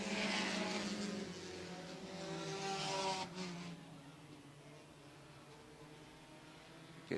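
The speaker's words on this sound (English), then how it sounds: "Josh Leclerc running 2nd in that number 7 car." Race cars circle a short oval at Airborne Speedway in Plattsburgh, New York, their engines droning loudly in a continuous roar that peaks and then recedes into a steadier background hum.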